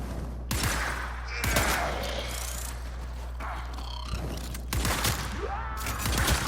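Bursts of heavy gunfire from big guns in the shooter game Warframe, loud rapid volleys separated by short pauses, with game effects in between and no talking.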